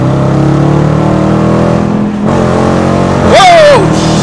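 A Dodge Challenger or Charger switched into sport mode drones loudly at close range, then near the end lets out a sharp, rising rev as it accelerates.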